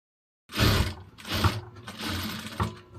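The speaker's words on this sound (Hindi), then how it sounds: "इस तरह सिलाई चलाते हैं" A sewing machine stitches a kurta in short, loud motorized bursts, about three runs separated by brief pauses, close by with no talking.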